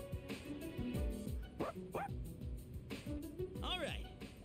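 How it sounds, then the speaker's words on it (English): A dog in the video game Persona 3 Reload barks and yips in several short, rising calls, mixed under a busy game soundtrack and a talking voice. "Man, you're one loyal dog."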